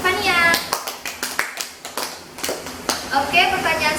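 A classroom of students claps in a short burst of separate hand claps during a teaching session on electrolysis cells, with children's and a teacher's voices talking before and after.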